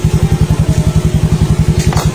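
A 2020 Yamaha Mio Soulty scooter engine idling close by, a loud, rapid, evenly spaced thumping pulse that holds a steady rhythm throughout.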